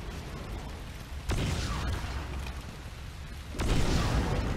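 Cannon fire in the video game Crysis Warhead: two heavy booming blasts a couple of seconds apart, each a sudden loud impact trailing into rumbling debris.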